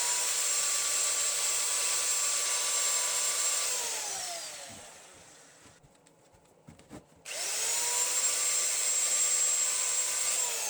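A walnut bowl spins on a woodturning lathe while sandpaper is pressed against it, giving a steady loud whine that fades as the lathe slows, goes quiet with a few faint knocks, then spins back up to full speed.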